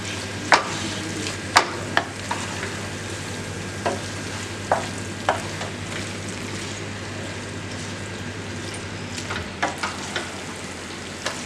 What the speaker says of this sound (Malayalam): നന്നായി ഇളക്കി മിക്സ് ചെയ്യണം. മസാല എല്ലാ ഭാഗത്തേക്കും ആവുന്ന രീതിയിലൊന്ന് മിക്സ് ചെയ്യണം.